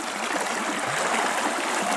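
The flooded Razdolnaya river near Pokrovka rushing past, a dense continuous roar of fast-moving water, steady and loud throughout with no voices.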